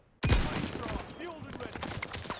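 A PTRS anti-tank sniper rifle fires in a Call of Duty game: one heavy close shot hits abruptly, then reverberating crackle and game effects decay beneath it.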